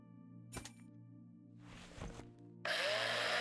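Tool sounds from the space survival game Breathedge: a short scrape, a burst of noisy grinding, then a loud, steady, harsh drilling whine that begins partway through and holds to the end, all over a constant low ambient hum.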